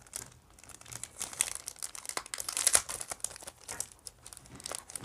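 Plastic packaging around vintage stickers crinkles and rustles in irregular bursts, close and fairly quiet, with no voices.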